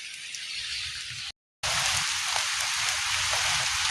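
Heavy rain pours in a steady, dense hiss close by, with one short silent gap and no voices.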